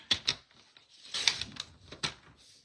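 Card stock being trimmed with a paper trimmer gives a few crisp clicks and a short slicing rasp, close and fairly quiet.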